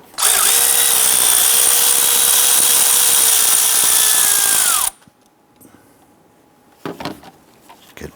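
A power tool loosens and removes a 12mm nut under a rubber boot on a 2008-2013 Nissan Rogue during a water pump job. A loud, steady whine runs for about five seconds and cuts off abruptly, followed by faint clicks and handling noises.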